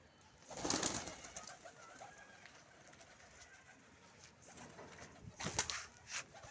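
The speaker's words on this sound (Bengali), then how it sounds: "কবুতরগুলি খাবার দিছি এখন এখন এগুলি অন্যান্য কবুতরের সাথে ঘুরে ঘুরে খাইতেছে।" Pigeons coo softly on a rooftop while feeding and wandering among other pigeons, with a couple of low cooing bursts near the start and again near the end over a quiet background.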